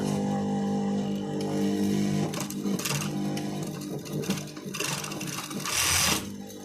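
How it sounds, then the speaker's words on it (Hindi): A sewing machine stitches along a folded dupatta edge, its close rapid mechanical whir running steadily with brief pauses and faster bursts. "इसके ऊपर सीधी मशीन चला देनी है इस तरह से"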